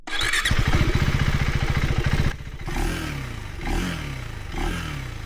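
A KTM 390 Adventure X motorcycle engine starts with a sharp clattering rev, then settles into a subdued, restrained idle with a few gentle throttle blips rising and falling, heard up close without talk.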